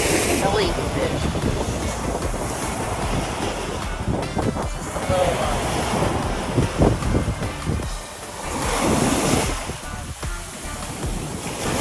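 Ocean surf rolling in at Zandia Beach, south of Fort Lauderdale, Florida, a steady broadband wash of breaking waves with gusts of wind buffeting the microphone, continuous and fairly loud throughout.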